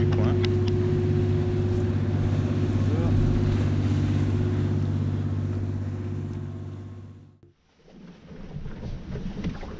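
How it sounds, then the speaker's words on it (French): A local fishing boat's engine drones loudly with a steady low hum as it passes close by, then fades abruptly into wind and water noise. "Un bateau de pêche du coin."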